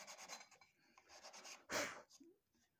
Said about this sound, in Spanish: vamos a dar el toque final con la lija